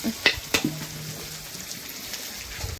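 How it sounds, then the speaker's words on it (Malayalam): Beef frying with shallots and coconut pieces in a pan over a wood-fired stove, a steady close sizzle broken early by two sharp stirring clatters. "ചെറിയ ഉള്ളിയും തേങ്ങാക്കൊത്തൊക്കെ ഇട്ടിട്ടാണ് ബീഫ് വരത്താൻ റെഡിയാക്കിക്കൊണ്ടിരിക്കുന്നത്"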